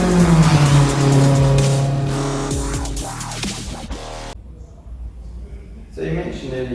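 A Toyota Hilux on mud terrain tyres drives past with a loud engine and tyre roar that fades, followed by quieter road noise; people talk over it.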